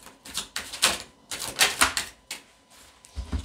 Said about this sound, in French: Maintenant, il faut mélanger les cartes.